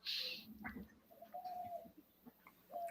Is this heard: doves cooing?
yes